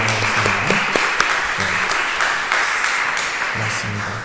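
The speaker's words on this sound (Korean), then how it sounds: "우리 수고한 모두를 위해서 박수 한번 할까요?" A church congregation at a Sunday worship service claps together in sustained, even applause, with a few brief vocal sounds from a voice rising over it near the beginning and end.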